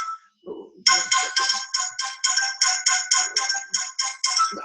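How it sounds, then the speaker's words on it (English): An incoming-call phone ringtone plays alone, a loud, rapid run of bright repeated electronic chirps in an even, pulsing rhythm that starts abruptly after a brief quiet moment. "I have a phone call from India."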